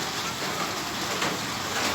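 Dense, steady hiss of heavy rain pouring down, broadband and continuous throughout, with no voices.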